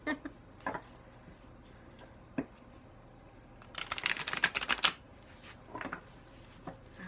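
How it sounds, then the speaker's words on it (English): A deck of tarot cards is shuffled up close, with a few soft taps and flicks and then a dense burst of riffling in the middle, followed by scattered taps. "Let's do one more shuffle for the win."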